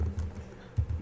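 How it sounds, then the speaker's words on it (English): Typing on a computer keyboard during a computer studies exercise, a close run of soft, irregular key clicks with no talk. "sorry, I need to see what I'm typing,"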